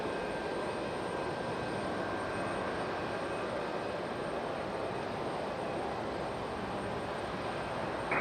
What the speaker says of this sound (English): Nice departure for that 757.